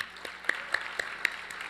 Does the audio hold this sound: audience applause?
yes